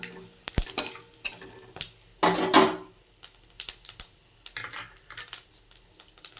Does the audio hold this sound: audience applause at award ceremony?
no